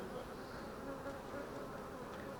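Honeybees buzz softly and continuously around an open hive during an inspection after two colonies were merged, a dense, even drone with no talking.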